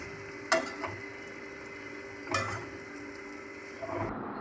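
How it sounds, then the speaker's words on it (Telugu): Cut bread pieces being stirred into frying bread upma in a pan make a steady close sizzle, broken by two sharp clanks of the spoon on the pan and a softer scrape near the end, with no speech. "మనం ముందుగా కట్ చేసుకున్న బ్రెడ్ ముక్కలు అనేవి వేసుకొని కలుపుకుందాం"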